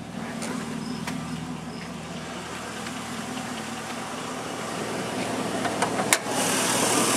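A 2001 Chevrolet Silverado pickup with a 5.3 liter V8 and a drop-in K&N air filter idles smoothly, giving a steady, even low hum throughout with no voices.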